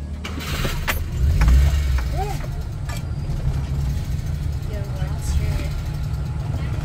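An old truck's engine rumbles steadily as it drives in Cebu, Philippines, a low continuous drone with a brief louder surge, while people talk over it.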